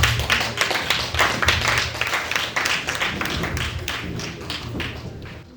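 At a book launch, an audience claps for a poet about to recite, sharp close hand claps over a busy crowd patter, loud at first and gradually thinning out toward the end.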